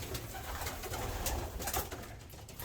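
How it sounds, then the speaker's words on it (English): Young pigeons cooing softly at close range, a steady low murmur of coos over faint background noise with no talk. "These other young birds are very cheeky."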